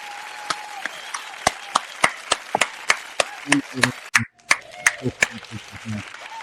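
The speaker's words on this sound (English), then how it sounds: "I will give you a fantastic applause" Enthusiastic clapping and applause from a small group, sharp irregular claps rising and falling across the whole stretch with a brief pause near the end, close and fairly loud with faint voices mixed in.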